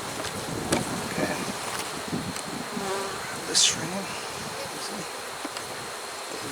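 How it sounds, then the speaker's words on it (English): Honeybees buzzing steadily around a hive frame during a brood-frame swap, a dense close hum with occasional louder passes of single bees near the microphone; a voice speaks briefly. "Easy bees."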